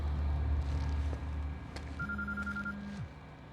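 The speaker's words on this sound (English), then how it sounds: "It's your phone, buddy." A phone rings in the video game Quantum Break: a low electronic ringtone sounds in a couple of steady tones over a faint background, close and clear.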